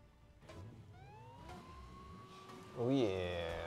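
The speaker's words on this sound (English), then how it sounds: "Oh yeah, police siren." A police siren wails in LEGO 2K Drive, its rising and warbling tones sweeping under a voice and driving game noise, growing louder toward the end.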